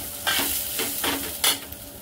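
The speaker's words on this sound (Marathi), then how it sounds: "दाणे सुद्धा आपण चांगले खमंगाचे भाजून घेऊया।" Pigeon pea kernels roast in a hot pan, a soft sizzle under a few scraping stirs that come in short bursts, close and quiet.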